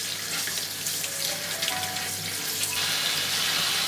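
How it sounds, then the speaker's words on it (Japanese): Fresh ginger with its skin on is rinsed under a running kitchen tap. The soft, steady stream of water hisses continuously, with small splashes as the root is moved beneath it. "生姜は皮ごと使うため、土などが残らないようにきれいに洗います。"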